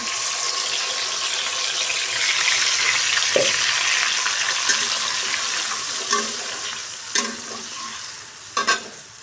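Tomato paste and dried chilies going into a hot frying pan, a loud, steady hiss and sizzle with a few short scraping and clinking stirs near the end.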